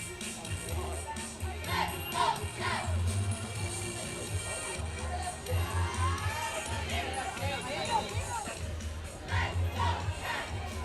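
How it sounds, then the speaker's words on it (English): A varsity high school football crowd cheers and shouts in the stands at a night game, Santiago versus Magnolia, as the Cavalier cheerleaders pump them up; a steady roar of voices with swells, fairly distant and continuous. "As the Cavalier cheerleaders are getting this crowd pumped up"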